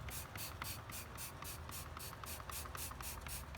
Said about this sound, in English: We'll start with a little bit of Sonax wheel cleaner.